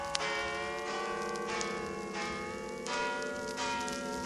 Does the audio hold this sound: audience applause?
no